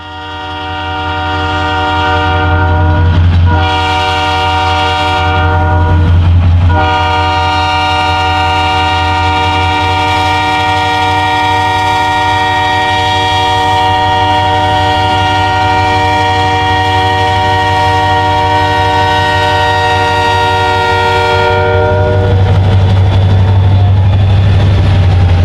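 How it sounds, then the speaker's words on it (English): A GP40-2 locomotive in ACL-inspired livery, on a short line in Indiana, sounds its horn very loudly and close: a long chord broken by two short gaps, then held steady, over rumbling engine noise that swells as the horn stops. "GP40-2 number 2000, which is on loan to the short line for cab sound testing"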